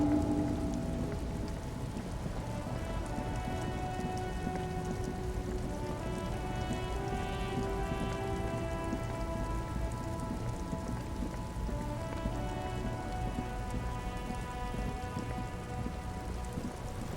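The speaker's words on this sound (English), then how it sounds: "Stuck in the rain in a traffic jam, man." Steady rain from the video game Disco Elysium, a continuous dense patter of drops falling without pause, with soft sustained musical tones and low ambience beneath it.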